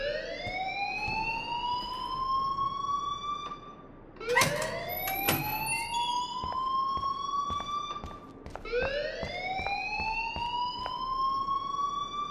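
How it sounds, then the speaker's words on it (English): A fire alarm in the Life is Strange video game wails loudly in repeated rising siren sweeps, three long cycles, with a few sharp clatters mixed in near the middle. "please turn off that alarm since that's your job"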